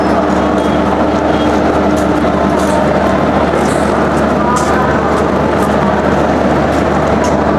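Steady rumble and rattle of a passenger train underway in Jharkhand, India, a continuous loud interior drone with faint clanks throughout and no break.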